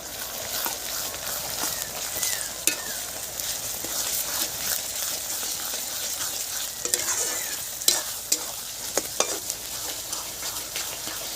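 Ginger garlic paste fries with half-browned onions in a pan for a village-style duck curry, a constant close sizzle broken by scraping stirs and occasional clacks of the spoon, with no voices.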